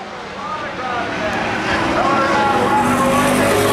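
SuperPro late model race cars at Baer Field Speedway roar as the race gets under way, a loud sustained engine drone building steadily, with an announcer talking over it.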